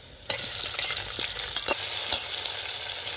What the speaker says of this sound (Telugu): నూనె అయితే కాగింది, ఎర్రగడ్డ పులుకులు అయితే వేసుకుంటుండా.